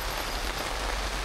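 Torrential rain drums steadily on a budget hot tent, a dense, continuous hiss of close drops with no pauses and no voices.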